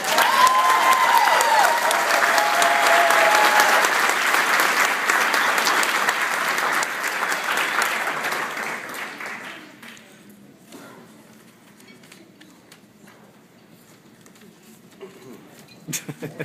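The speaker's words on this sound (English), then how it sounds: "So if we could give my mom a round of applause." Wedding guests applaud together in a dense, steady round of clapping that holds strongly for about nine seconds, then thins to scattered claps and a quiet room before a few closing taps.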